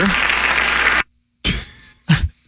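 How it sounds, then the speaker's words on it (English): A brief applause sound effect triggered by a phone's clapping emoji during a video call bursts at full volume for about a second, followed after a pause by two short, sharp sound bursts. "clapping plays a brief applause sound effect that both people hear"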